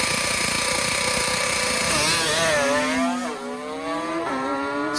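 Kawasaki H2 750 two-stroke triple, heavily modified for drag racing, screams loudly at high revs, its pitch sweeping down and then surging back up as the throttle is blipped, raw and ringing with no speech.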